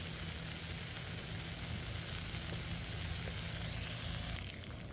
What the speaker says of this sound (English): our bacon's been going for a few minutes now